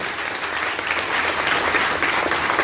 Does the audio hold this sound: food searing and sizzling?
no